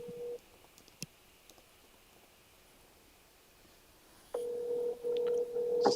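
Telephone dialing tones: a brief steady tone at the start, a quiet gap with faint clicks, then a run of louder, sustained electronic tones back to back near the end.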